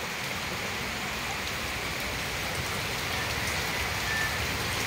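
Heavy rain pours down steadily during a flood at a house, a dense, constant hiss of drops on surfaces with no break.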